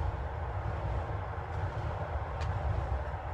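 A train rolls past outside, a steady loud low rumble with a broad constant roar throughout, a couple of faint brief squeaks riding on top, no speech.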